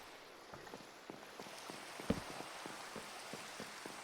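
Steady rain patters across a video game world, a dense even hiss broken by scattered droplet ticks and one sharper splash near the middle, fairly quiet and with no one talking.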